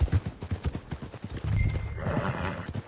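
Horse hooves clip-clop in a steady rhythm in Red Dead Redemption 2, close and clear, with a brief whinny rising in the second half.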